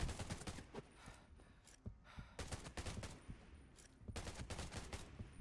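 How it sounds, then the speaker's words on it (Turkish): Rapid AK rifle fire in the survival video game Undawn, loud sustained bursts of automatic shots with short gaps between volleys. "Şu bak elimde AK var. Size ufak bir çatışma yapayım sizin için."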